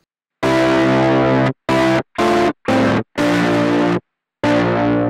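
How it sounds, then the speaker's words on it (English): Heavily distorted stereo fuzz guitar from a Hologram Chroma Console effects unit, playing in bursts: a long sustained chord, several short choppy stabs, then another held chord, with silence between. "I'm going to showcase the fuzz effect"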